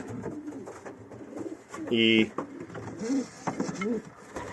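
Pigeons coo in a pigeon loft, with low throaty calls rising in short bursts around someone talking close by, plus a brief mechanical whirr in the middle.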